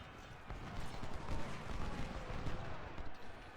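Cannon and artillery fire from a Civil War battle at Fredericksburg in a strategy game rumbles as dense, overlapping booms and crackling volleys, a continuous loud barrage with no clear gaps.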